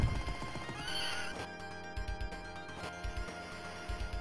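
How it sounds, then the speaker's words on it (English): A horse neighs in the 1991 arcade game Knights of the Round, a bright whinny near the start, followed by rhythmic clip-clop hoofbeats over game music and effects. "Horsey."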